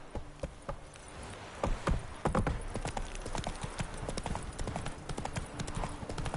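A horse gallops in Witcher 3: The Wild Hunt, with rapid, steady hoof clip-clops up close, a faint whinny and ambient rustling underneath.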